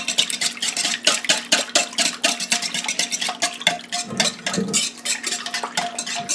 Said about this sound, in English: we're going to whisk this all together